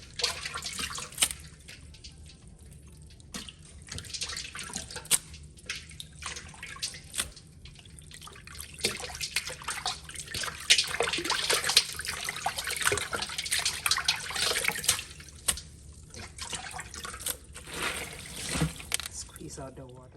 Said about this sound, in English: now I'm going to strain the greens.